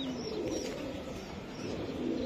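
Racing pigeons at a Bangladeshi loft coo in a low, steady murmur, close and continuous with no break.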